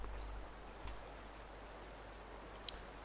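Flowing water ambience from the video game Fallout 4 runs as a very faint, even, stream-like hiss, with one small click near the end and no talking.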